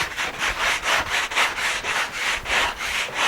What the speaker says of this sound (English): I just take the sandpaper, hold it at a 45-degree angle, and go ahead and put the beginning of a 45-degree bevel on the front